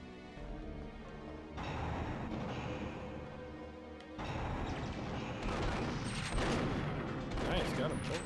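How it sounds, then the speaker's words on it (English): Shotgun blasts in the video game Perfect Dark during an underwater-base mission, heavy booming shots with crashes and clatter in quick bursts, loud and close, while a player talks over the action. "Holy shit, the shotgun's slow. That is a slow loading shotgun."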